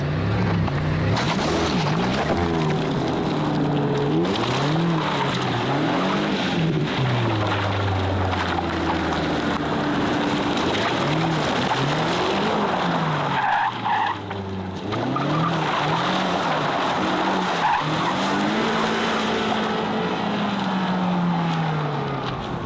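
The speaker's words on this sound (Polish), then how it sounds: "Naprawdę ta V8 dobrze brzmi cały czas słychać ten dźwięk i to strzelanie w rury wydechowe" A loud BMW XM SUV V8 engine roars steadily throughout, revving up and down in rising and falling sweeps, with crackling exhaust pops mixed in; no talking.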